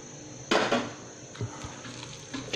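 A utensil stirs shrimp and pork spring roll filling with cooking oil in a bowl, giving a sharp clatter and scrape followed by sparse, softer clinks and knocks close by.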